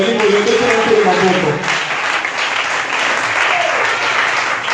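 A church congregation applauds in acclaim of the Lord, a dense, loud, steady wash of clapping mixed with voices that fills the room throughout.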